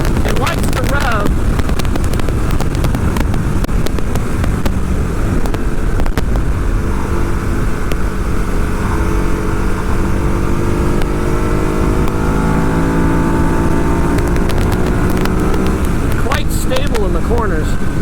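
Engine of a 2014 Ducati Hyperstrada revving hard while being ridden through corners, a loud close roar rising and falling with gear changes over steady wind rush.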